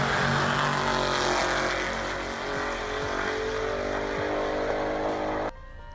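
A Chrysler 300 with a V8 engine, modified to over 800 horsepower, doing skids: a loud, sustained engine roar and tyre noise fill most of the clip and then cut off abruptly near the end, with no voices.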